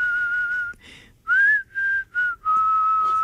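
A clear, high-pitched whistled tune, close and loud, with several sustained notes separated by brief breaks.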